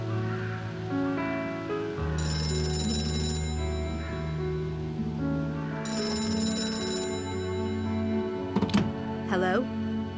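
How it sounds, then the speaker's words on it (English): A telephone rings in the game Gray Matter, two long electronic ring bursts a few seconds apart over music, followed by short clattering handset sounds at the end. "How did you know the phone would ring just now?"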